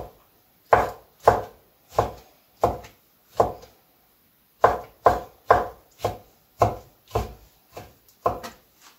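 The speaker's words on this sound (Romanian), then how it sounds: "Acum tăiem așa pătrățele, astea le tăiem pătrățele cu bulețe." Knife chopping vegetables into small cubes on a board for a Romanian beef stew, a run of crisp, evenly spaced cuts in two bursts, close and fairly loud with no talk.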